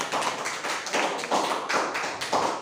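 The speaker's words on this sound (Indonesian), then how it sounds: "Tepuk tangan kita semua." Students in a classroom clap their hands together in appreciation, a steady, rhythmic group clapping at moderate loudness that pulses in regular waves throughout, with no speech.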